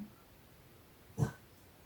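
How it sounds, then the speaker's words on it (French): A single short, soft snuffling puff from a female dog, brief and close, in an otherwise quiet room. "C'est la chienne qui fait un petit bouffe là."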